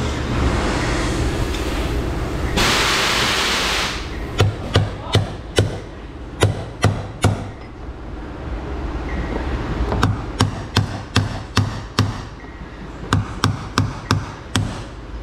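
A hammer strikes a chisel to drive a part into place on a Chevy Silverado 2500 HD with a 6.0 engine, a burst of rushing noise followed by sharp metallic blows in quick clusters of three to five, loud and close.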